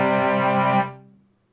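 Two tones a perfect fifth apart, in a 3:2 frequency ratio, held together as a steady harmonic drone, then cut off and fading quickly to silence, clean and close with no talking.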